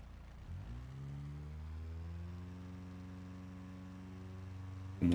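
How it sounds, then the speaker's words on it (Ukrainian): A Moskvich with a swapped BMW engine idles steadily in BeamNG Drive, showing oil overheating and oil starvation, a low, even hum with a slight rise in tone, ending in a sudden louder burst. "Давайте на холостому постоїмо"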